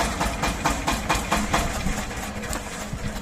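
A 24-horsepower single-cylinder mini tractor engine idles close by with a steady, rhythmic chugging beat that holds even throughout.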